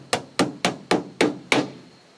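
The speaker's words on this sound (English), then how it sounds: "we're going to hammer on their hive" Six sharp hammer blows banged on a wooden bee swarm trap hive, evenly spaced and close, each a hard knock with a short ringing decay.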